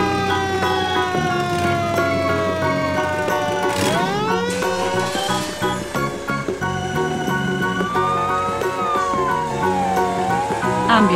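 A fire truck siren sweeps up and down in long, loud wails over steady background music and effects, sounding close and continuous throughout.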